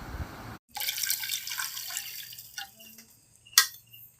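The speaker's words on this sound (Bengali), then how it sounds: "এবার এর মধ্যে আমি দিয়ে দেবো 1 কাপ পরিমাণে চিকেন স্টক।" Chicken stock poured into a pan of butter and garlic paste, a broad wet splashing rush with faint dripping, followed by quieter bubbling and a sharp clink near the end.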